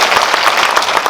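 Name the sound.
audience applause at film talk event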